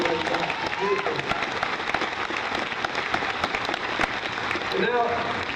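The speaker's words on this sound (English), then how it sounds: "let's have a round of applause for the people who are very hard to do it" Audience applause at a Busch Gardens Tampa animal show, sustained crowd clapping throughout with cheers and voices rising near the end.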